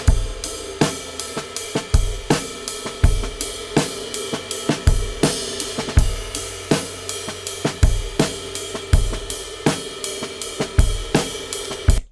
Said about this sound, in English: I'll play the whole drum kit and then I'll mute it